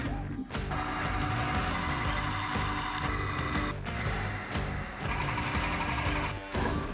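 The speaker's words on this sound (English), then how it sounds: "Now we just need to drill the holes" Holes being drilled in metal parts for a Rover P4 classic car; a loud, continuous grinding drone with a fast rhythmic clatter runs for several seconds, with brief dips where the bit eases off.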